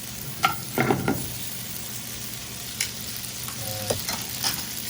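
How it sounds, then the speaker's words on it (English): Chicken parmesan ingredients with melted butter are stirred in a pan, giving soft scraping strokes and a few clinks over a steady gentle sizzle, close and without any voices. "Keep it moving so it doesn't stick to the bottom of the pan."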